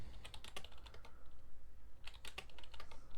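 Fingers type a login on a computer keyboard in quick, irregular bursts of crisp clicks, with a short pause partway through, close and alone.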